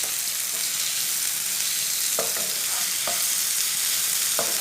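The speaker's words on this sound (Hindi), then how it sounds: "अच्छी तरह मिक्स कर लेंगे" Crushed raw mango for keri chutney is stirred in a hot pan, with a continuous sizzle and occasional sharp scrapes and taps of the spoon against the metal.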